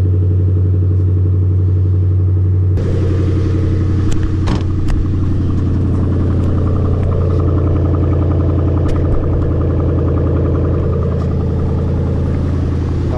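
A 2005 Ford Mustang GT cold-starts on a chilly morning, the starter catching into a loud, steady idle rumble that holds strong and close with slight shifts in pitch, no talking over it.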